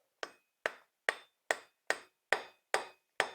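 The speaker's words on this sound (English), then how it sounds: "today I'm going to just use a hammer and a punch" Eight sharp metallic hammer taps on a punch ring out at an even, steady pace while replacing a Can-Am Traxter wheel bearing, each strike crisp and close with a short ringing decay.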